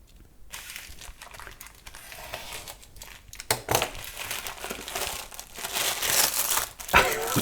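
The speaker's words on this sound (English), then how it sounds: "So let me just cut that out of its little packaging." Plastic packaging crinkles and tears as a camera lens is cut free, with close, continuous rustling and crackling that grows louder toward the end.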